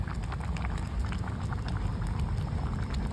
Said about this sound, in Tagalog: ang pinalalambot na bulalo. Panay na po ang kuluan niya.